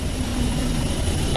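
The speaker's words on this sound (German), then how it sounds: "Der Hubschrauber fliegt zurück ans Ufer." A rescue helicopter flies back toward a shore after a water rescue, its rotor and engine making a steady, loud, dense roar throughout.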